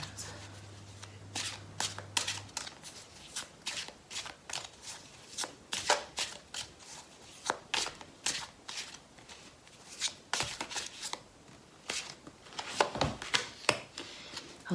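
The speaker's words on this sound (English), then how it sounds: "I'll do another couple shuffles." Tarot and moon oracle cards shuffled by hand, a long run of crisp riffling snaps and soft papery slides, close and quiet, coming in uneven bursts with brief pauses between.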